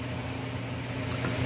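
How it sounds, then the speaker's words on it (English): Chopped onions frying down in a pot for a stuffed Boston butt pork roast, a steady close sizzle and bubbling that holds evenly with no talk over it. "I want to fry this down. When all these onions get clear"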